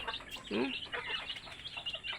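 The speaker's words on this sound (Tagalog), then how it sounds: "dumami na kasi mga manok ko" Chickens clucking and calling in a busy cluster nearby, with a soft low voice briefly under the fowl sounds.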